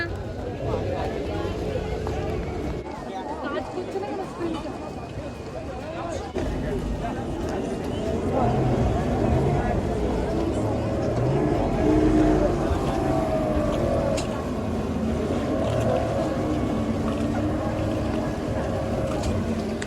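Speedboat heading out from Pattaya beach toward Coral Island, a steady loud engine roar and rushing water and wind noise running throughout, swelling slightly midway, with no clear talk over it.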